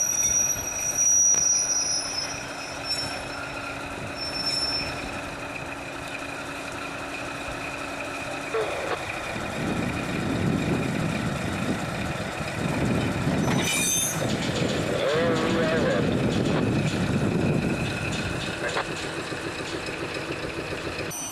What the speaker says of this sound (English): So here comes the 4040 with our new old Conrail caboose.